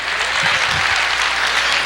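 Congregation applause during a sermon in church, a brief burst of continuous, fairly loud clapping with faint voices underneath.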